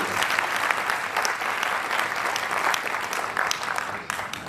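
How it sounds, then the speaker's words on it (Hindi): Sustained applause from an audience at a university convocation and graduation ceremony, dense steady clapping throughout with no talk over it. "तालियों से आप मैम का अभिनंदन"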